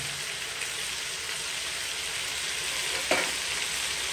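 Meat sizzles in a pot with a steady, even frying hiss throughout, joined near the end by a single brief clink or scrape of a spoon.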